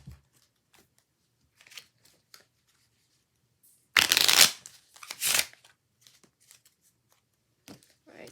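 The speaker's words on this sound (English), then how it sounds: "I first want to start with Tyler shuffling the cards" Two quick bursts of riffling, crisp and close, as a deck of cards is shuffled, separated by a short pause amid near silence.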